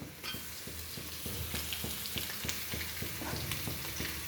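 Green chilies sauté in a pan on the stove, sizzling steadily with a regular rhythm of stirring or scraping strokes over the hiss, close and without speech.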